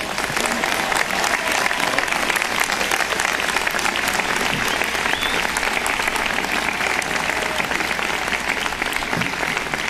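An audience applauds warmly as Steve Jobs is welcomed as commencement speaker: sustained, dense clapping from a large crowd, loud and even throughout with no speech over it.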